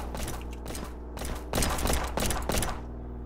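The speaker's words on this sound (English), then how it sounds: "he's shooting at me!" Rapid bursts of gunfire during a police shootout in the Flashing Lights emergency-services sim, loud and close, several clustered volleys with short gaps between them and no talking.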